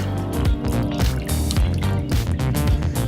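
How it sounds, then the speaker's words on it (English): Wet seed bomb mixture is squeezed by hand to press out water, giving repeated squelching squishes and dribbling splashes at close range with a steady rhythm. "And you want to squeeze out a good majority of the water."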